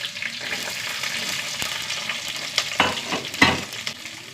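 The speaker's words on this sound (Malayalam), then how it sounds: "ഉള്ളി നന്നായി മൂത്ത് വരട്ടെ." Small shallots with cumin, garlic and curry leaves frying in a pan, a steady close sizzle with a few louder scrapes and stirs of a spoon, no talking.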